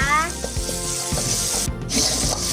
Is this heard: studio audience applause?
no